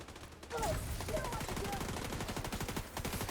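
Video-game gunfire rattles off in a continuous rapid automatic burst at moderate loudness for about three seconds, with no clear speech over it.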